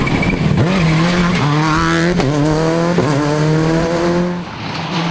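A rally car at Lurgan Park Rally on a loose surface, its engine roaring loud and close with rising revs and gear changes, tyres scrabbling as it drives past.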